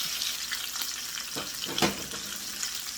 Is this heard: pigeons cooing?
no